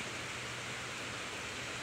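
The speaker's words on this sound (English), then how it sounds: "It's pouring down rain, there's occasional lightning" Heavy rain pours down steadily in a dense, constant hiss during a surprise shower in Pittsburg, Kansas, filling the space evenly with no pauses and no voices.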